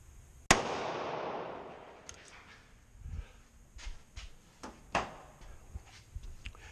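A single sharp, loud report from a DoubleTap .45 ACP derringer firing its ported bottom barrel outdoors, followed by a decaying tail and some faint clanks and handling noises.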